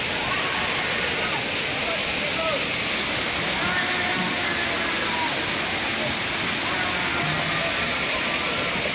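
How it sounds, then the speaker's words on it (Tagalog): Waterfall in Perez, Alawan, Laguna, a constant loud rushing roar of falling water with faint voices underneath. "Dito po yan sa falls."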